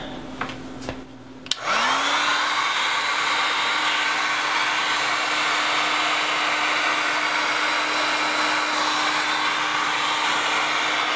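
A heat gun or hair dryer blows hot air to soften material for a DIY ring light so it can be curled, switching on after a few handling clicks and then droning as a loud, steady whoosh alone for about nine seconds.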